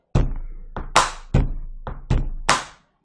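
A pen tapped on a desk in a beat of bass thumps, sharper bangs and claps: six close, crisp knocks falling in an uneven repeating rhythm, each with a short ringing decay, with no talk over them.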